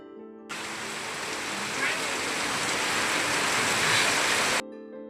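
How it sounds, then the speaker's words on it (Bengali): Heavy rain pounds a tin roof in a village home, a dense, loud, continuous drumming hiss that starts abruptly and holds steady before cutting off. "টিনের চালের উপরে বৃষ্টির যে আওয়াজটা হয় মানে একদম ন্যাচারাল একটা আওয়াজ"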